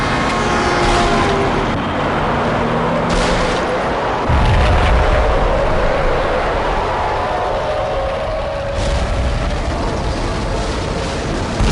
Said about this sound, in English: Another bomb exploded inside the closest slum building.